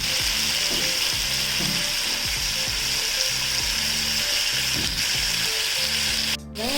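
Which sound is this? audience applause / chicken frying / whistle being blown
chicken frying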